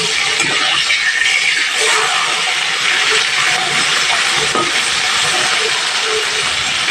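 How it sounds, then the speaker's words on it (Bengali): Loud, dense hissing and spattering of phasa fish frying in hot oil, a steady bright crackle throughout with no speech. "প্রথমে আমি দু পিস করে ভেজে নেব মাছের তেলের উপরে দিয়ে দিয়েছি মাছগুলো"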